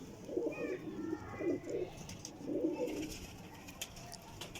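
Breeding pair of pigeons coo nearby in three low, throaty bursts, with a quiet background and faint clicks toward the end.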